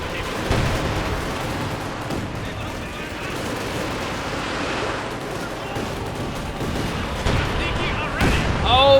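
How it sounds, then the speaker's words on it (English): Panzerwerfer artillery and gunfire in Company of Heroes 2: booms, bursts and scattered shots sound under continuous commentary, growing louder toward the end. "Panzerwerfer firing in response"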